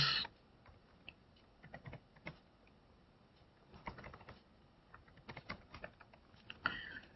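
Code typed on a computer keyboard, faint scattered key clicks coming in short irregular bursts over a quiet background, with no talking.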